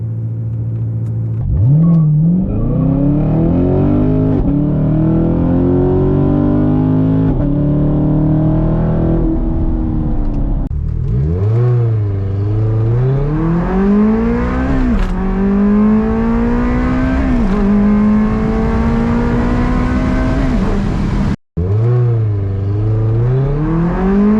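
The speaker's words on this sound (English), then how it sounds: "the Ferrari's shifting is just very aggressive, very exciting" A Ferrari 360 Spider accelerates hard, its engine note climbing through the revs, then dropping sharply at each aggressive gear shift, several times in a row, loud and close, with a brief cut near the end.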